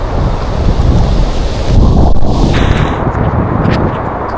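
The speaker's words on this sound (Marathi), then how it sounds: "पाऊस तर आहे थोडा थोडा" Steady, heavy rain hisses loudly and continuously near Marleshwar, Maharashtra, among misty hills, with a deep rumbling roar underneath and no voices.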